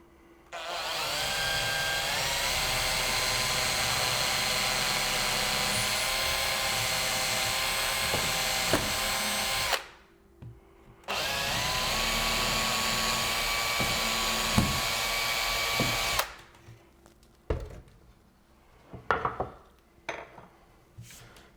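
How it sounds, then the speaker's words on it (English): A power drill whines steadily for long stretches while drilling IKEA kitchen cabinet toe kicks, pauses briefly, then runs again before stopping, followed by scattered clicks and knocks. "Let's drill it."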